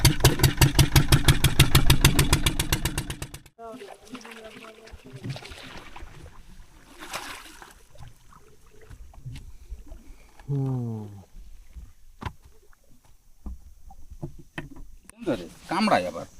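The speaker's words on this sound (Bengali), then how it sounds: "তো নৌকা স্টার্ট দিয়ে বেরোচ্ছি" A fishing boat engine chugs loudly in rapid even pulses at the start, then cuts out. Afterward come quieter splashing and knocking around the boat, with brief engine sputters and people talking.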